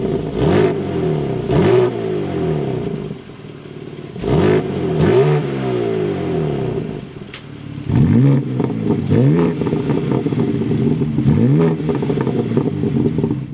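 A 2025 BMW M4 with a manual transmission starts up and revs repeatedly, its engine note rising and falling in several loud, close sweeps with rough idle in between and no talking.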